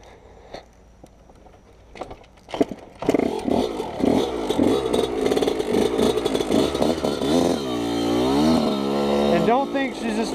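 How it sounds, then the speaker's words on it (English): A Yamaha YZ125 two-stroke dirt bike is kicked over with a few thuds, then the engine catches and buzzes loudly nearby, revving up and down while a person talks over it. "She's just not cranking on the first kick."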